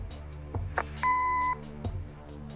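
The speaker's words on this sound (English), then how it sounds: "Leave a message after the beep." A single steady electronic answering machine beep from a video game, clear and sustained for about half a second, set among soft clicks and low background hum.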